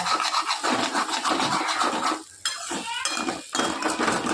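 Potatoes stuck in oil on the bottom of a frying pan are scraped and stirred with a metal utensil, giving continuous close scratching and clinking that pauses briefly midway.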